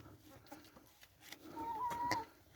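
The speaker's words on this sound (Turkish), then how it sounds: "Burada da bir tavuğumuz yatıyor" A hen in a winter coop clucks softly a few times, then lets out a drawn, rising squawk, close by and fairly faint.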